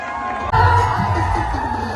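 Outdoor crowd at a dahi handi festival cheering and shouting for a Govinda team's six-tier human pyramid, a loud dense roar that swells after a brief dip, with voices mixed in.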